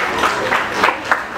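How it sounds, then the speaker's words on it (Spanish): Applause from an audience greeting a contestant at a FLASH event, steady clapping sustained through the short moment with a few louder bursts. "Un aplauso para él, por favor."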